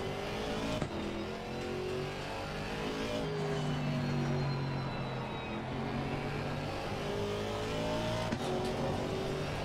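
GT4 race car engine in the racing game Assetto Corsa Competizione drones loudly and continuously, rising and falling through gear changes as the car is driven hard, with no voices over it.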